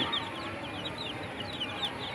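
Domestic chickens clucking softly in a brief, quiet stretch, several short repeated clucks from a few nearby birds.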